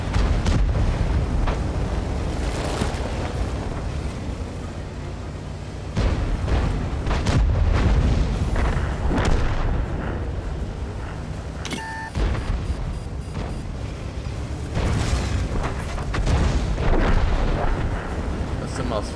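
Tank cannons firing in the World of Tanks video game, with heavy booming blasts and rumbling impacts rolling over a dense, loud battle background.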